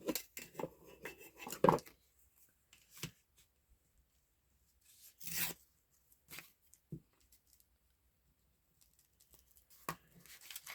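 Scissors cutting down a paper piece for a junk journal collage: sparse, quiet snips and rustles separated by long near-silent pauses.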